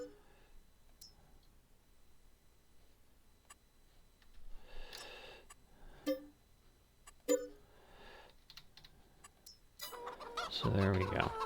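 Chickens clucking in the Farming Simulator 22 game, scattered faint clucks and ticks with a few sharper calls, growing into louder, denser clucking near the end.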